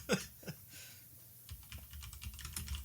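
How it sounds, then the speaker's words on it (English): Fingers type on a computer keyboard in a quick, uneven patter of light clicks that grows busier partway through, close by with no one talking. "No, what are you typing up?"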